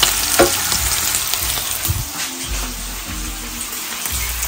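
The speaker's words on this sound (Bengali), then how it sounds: "এই যে এখানে এখানে আমি ডিমটা ভেজে নিচ্ছি" An egg fries in a pan with a steady, close sizzle and crackle, broken by occasional scraping and stirring knocks from a utensil.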